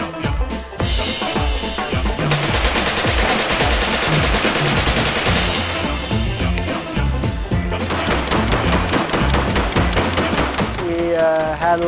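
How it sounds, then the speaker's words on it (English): Rapid bursts of automatic gunfire from machine guns and rifles at an outdoor shooting outing, loud and near, with rattling strings of shots filling most of the stretch and a brief voice near the end. "We went and shot some machine guns."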